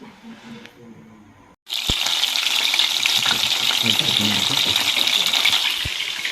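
Bangude mackerel frying in a pan: after a short lull a steady loud sizzle starts at once and runs on without a break, with a couple of clinks partway through and a faint voice before it begins.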